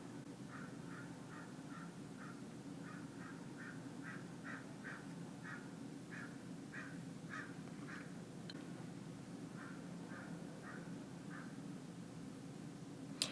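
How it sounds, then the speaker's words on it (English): Birds call repeatedly in short squawking bursts, a series of rhythmic calls at moderate distance over a steady low background hum. "You may be hearing birds."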